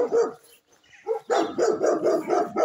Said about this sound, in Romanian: aici se aude câini, se aude pui, rațe,